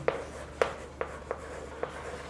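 Numbers are written by hand on paper: several short, crisp pen strokes land in a loose, uneven rhythm, each a quick scratch separated by quiet gaps.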